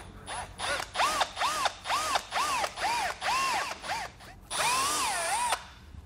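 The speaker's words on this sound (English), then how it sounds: "very carefully drill a hole through there" A power drill boring a hole through the body of a 2020 BMW X5. The motor whines in about nine short, rising-and-falling bursts, then runs in one longer sustained pull before stopping. No voices.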